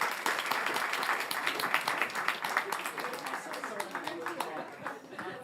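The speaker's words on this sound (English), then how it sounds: "Can we give them a round of applause?" An audience applauds a panel at a London Resilience Hub event. The clapping is a sustained, fairly distant crowd texture that thins slightly toward the end.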